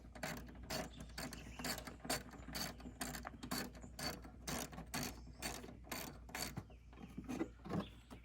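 Ratchet wrench loosening bolts during a car radiator repair outdoors, rapid rhythmic clicking bursts repeating throughout, close and moderately loud with no talking.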